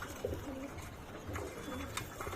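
Old-breed pigeons cooing at a home loft in Old Dhaka, soft low coos repeating a few times, fairly faint and close.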